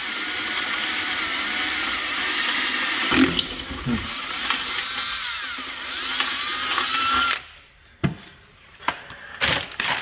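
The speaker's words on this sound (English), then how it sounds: "Then I drill this hole last, these vertical ones." A cordless power drill bores holes for mounting lights, a continuous whirring grind with pitch shifts as the bit cuts. It stops abruptly, leaving a quieter stretch with a few handling clunks.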